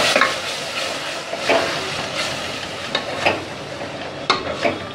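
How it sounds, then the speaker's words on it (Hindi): Spatula stirring tomato puree into onions fried in ghee for egg curry, a steady close sizzle broken by several distinct scraping strokes against the pan, with no talking. "अब जो हमारा टमाटर है टमाटर से मिक्स कर देंगे टमाटर की प्यूरी, और अच्छी तरह इनको मिक्स कर लेंगे"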